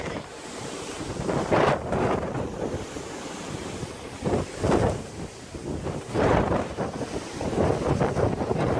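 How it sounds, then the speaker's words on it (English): Strong wind buffets the open deck of the Carnival Breeze cruise ship, a steady roaring rush with repeated louder gusts and a wash of sea noise underneath, no voices. "It's so windy."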